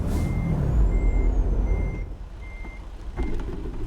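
A heavy truck in American Truck Simulator beeps its reversing alarm in evenly spaced tones over a loud diesel engine rumble, followed by a sharp hiss of air brakes.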